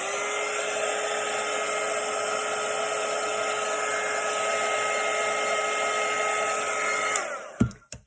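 A hair dryer blows steadily and loudly on a watercolour painting of a Christmas sleigh for about seven seconds, then switches off, followed by a few brief clunks.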